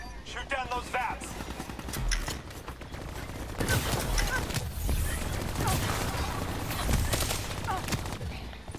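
Gunfire from a first-person shooter, Black Ops 3, aimed at vats: dense, overlapping bursts of shots run through the whole stretch, loud and close, mixed with game noise and voices talking over it.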